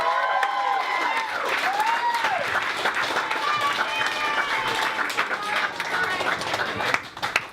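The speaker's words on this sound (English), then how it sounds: "Please clap your hands for Jamie Roux, everybody." A comedy club audience claps and cheers for a comedian taking the stage, a dense, steady wash of applause that holds for several seconds before thinning at the end.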